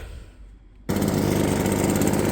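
A Husqvarna 525BX leaf blower engine fires up abruptly after a quiet moment, then holds a loud, steady, buzzing two-stroke roar close by.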